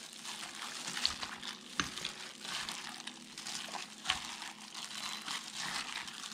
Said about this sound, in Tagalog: Haluin natin ng maigi.